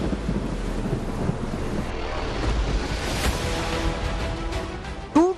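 Strong gusting wind of Cyclone Tauktae buffets the microphone in a constant heavy roar and rumble, with a brief sharper whine near the end and no voices.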